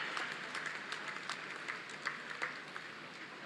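A crowd at a ceremony honouring Haryana's medal-winning athletes applauds the hockey team and its support staff with sustained, moderately distant clapping, an even texture with occasional sharper claps standing out.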